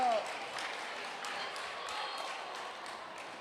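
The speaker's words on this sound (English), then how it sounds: "The crowd approves." Scattered claps and light cheering from the crowd after a point at a national championship match, with faint ball bounces and a commentator talking over it.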